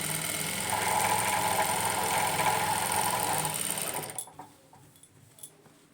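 A sewing machine runs steadily while stitching the folded edge of a belt strip, a close, continuous motor whir with rapid needle chatter that stops abruptly, leaving near silence.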